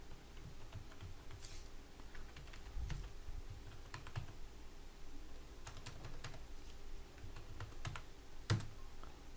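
A password typed on a computer keyboard, with soft scattered key clicks and taps at an irregular rhythm, faint and close, alone with no talk.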